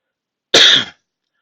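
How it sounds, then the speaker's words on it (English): A single short, harsh cough bursts out close by, loud and abrupt, followed by silence. "can't stop the coughing now."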